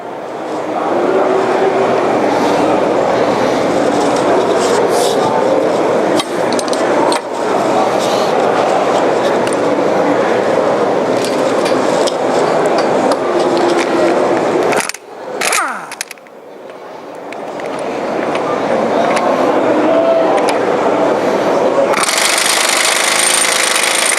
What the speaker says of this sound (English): We're going to take our impact wrench and break it free.